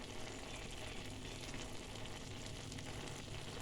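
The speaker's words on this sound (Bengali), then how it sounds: "ঝিঙেটা তেলের উপরে দেওয়ার পর একটু জল বেরিয়ে গেছে" Ridge gourd (jhinge) frying in oil and releasing water, giving a faint, continuous, even sizzle with no voices.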